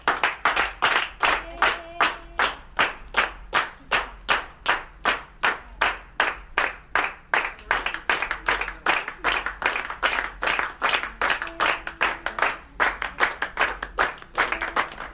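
People clap together in a brisk, steady beat, dozens of sharp even claps repeating close and loud, with a faint murmur underneath.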